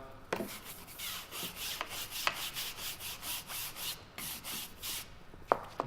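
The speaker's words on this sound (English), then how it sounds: "Make sure that you get that oil all the way through." A cloth or hand rubs oil along a steel barbell shaft in a rhythmic back-and-forth swish with repeated strokes, close up. A few sharp knocks come through between strokes.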